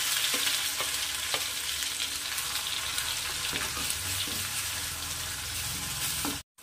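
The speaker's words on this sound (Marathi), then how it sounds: "हे वाटण टाकून द्यायचं आहे आणि छान फ्राय करून घ्यायचं आहे।" Ground wet masala paste frying in hot oil for a spicy drumstick curry, a dense continuous sizzle with faint stirring scrapes, close and steady before a sudden cut at the end.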